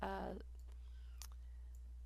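A single faint key tap on a computer keyboard lands as a sharp click after a brief burst of speech, followed by quiet room tone.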